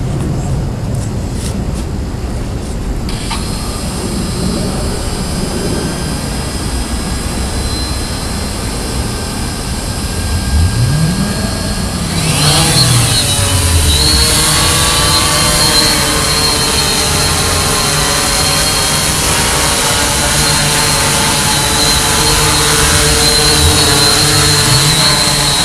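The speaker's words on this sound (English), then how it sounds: "now I can start the rotors on" Blade Chroma quadcopter drone rotors whir up from rest, then hold a steady, loud buzzing hover with a broad high-pitched rotor whine continuing throughout, no input changes.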